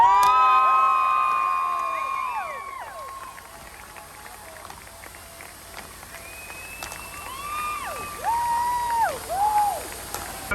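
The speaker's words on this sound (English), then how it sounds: "Once again, he takes the applause from the crowd." A trackside crowd at Brands Hatch cheers champion Ash Sutton on the BTCC podium at season's end, with whoops and shouts rising at the start, fading, then swelling again near the end over a faint hum.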